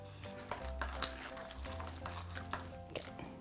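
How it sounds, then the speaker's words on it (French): Ham is stirred into a muffin mixture in a bowl, soft wet scraping and clicking strokes repeating unevenly at close range over a low background hum, with no talk. "Ok, je vais prendre le jambon. Ok, donc je vais mélanger ça comme il faut."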